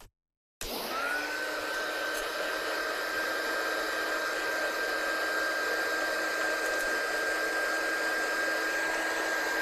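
A hair dryer blows steadily and loudly on freshly dyed fabric in a craft studio, a constant whirring roar with a high whine that starts abruptly after a brief silence and runs unbroken to the end.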